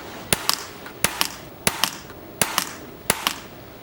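A .177 air rifle fires 13 grain slugs in a series of sharp, close cracks, each followed by a quick second snap as the slug strikes. There are five or six shots at a steady, unhurried pace with quiet gaps between them.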